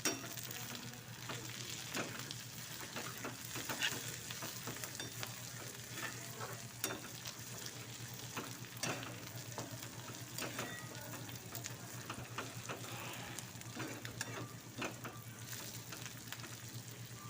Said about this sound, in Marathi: आता यामध्ये मी तीन हिरवी मिरची घेतलेली आहे बारीक चिरून थोडीशी फ्राय करून घेऊया